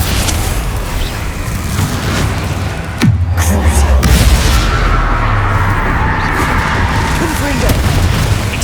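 An Imperio spell cast in Hogwarts Legacy lands as a loud, booming magical burst, followed by a sustained rumbling swell of effects layered over the game's dense background.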